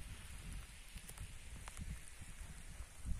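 Cold rain falling steadily over countryside during mushroom gathering, a soft continuous hiss with faint scattered drops, fairly quiet and with no one talking.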